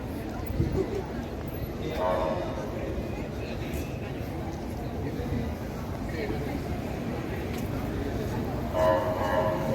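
A train at South Station in Porto, a continuous low rumble of rail traffic with faint horn-like tones rising briefly, heard at a station with people talking over it.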